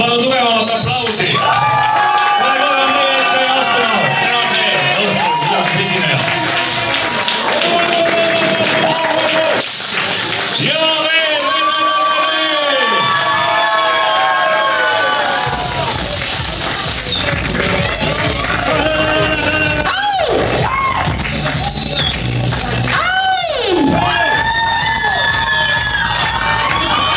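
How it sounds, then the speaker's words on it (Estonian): Crowd cheering, shouting and whooping at a lively gathering, loud and continuous across the whole stretch, with excited voices and calls rising over the noise. "Ma palun aplausi, ma palun tugevamat aplausi."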